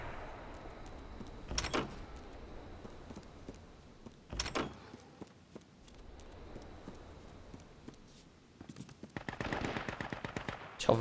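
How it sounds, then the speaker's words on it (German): Gunfire in the battle royale game H1Z1 comes in several sharp bursts: two short volleys, then a longer rapid rattling string near the end, over quieter in-game background noise. "Ja, von hinten schießt auch noch einer."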